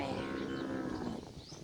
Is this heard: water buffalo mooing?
yes